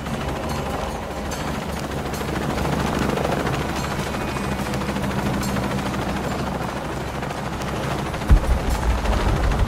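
Helicopter in the action video game Shadow of the Tomb Raider, a loud continuous rotor thrum and engine roar filling the whole stretch, with a sharp mechanical clank near the end.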